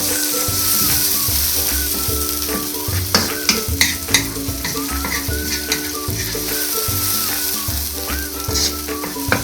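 A tilapia sauce of coconut cream and paprika sizzles loudly in a pan while being stirred, with bubbling and scraping strokes throughout and no talking.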